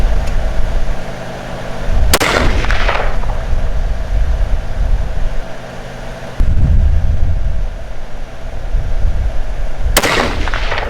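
Three loud rifle gunshots at an outdoor range, widely spaced, each a sharp crack followed by a booming rumble and echo, with steady background noise between.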